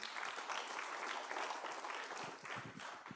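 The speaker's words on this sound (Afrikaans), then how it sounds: "Kan ons hom 'n lekker hande klap gee asseblief?" A church congregation claps for a guest at a Sunday service, a continuous, fairly faint patter of many hands with a few sharper claps toward the end.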